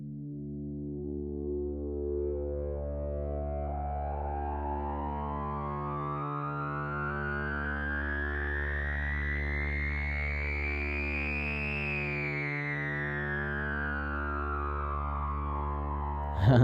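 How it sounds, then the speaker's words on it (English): A sustained, buzzy Moog synth drone with resonance turned up high, the resonant peak sweeping upward then back down, whistling harmonics rising over a steady low pulse. "With the Moog, if you turn the resonance up really far, it starts to really peak."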